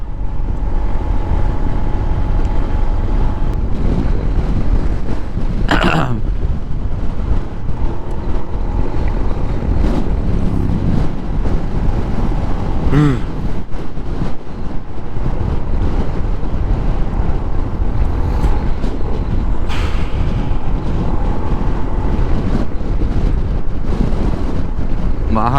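Strong, cold wind buffets a rider on a Honda ADV160 scooter during a mountain road trip, a loud, continuous roaring rush with gusty swells throughout, with occasional brief voices over it.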